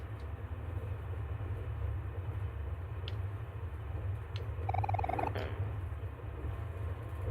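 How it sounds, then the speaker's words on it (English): Train in the game Omori shaking and rumbling, a steady low roar throughout with a few faint clanks and a brief whining squeal midway. "Why is the train shaking so much?"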